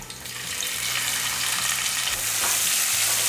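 Garlic and small shallots fry in hot oil in a pan, a loud, steady sizzle with some stirring, close and uninterrupted by talk.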